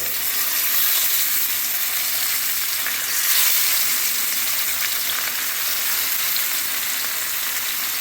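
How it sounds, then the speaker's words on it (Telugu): Marinated fish fries in hot mustard oil, throwing off a loud, dense, continuous sizzle that holds steady for several seconds and swells briefly midway, with no talking. "ఇప్పుడు నేను ఇందులోని చేపలను వేస్తున్నాను"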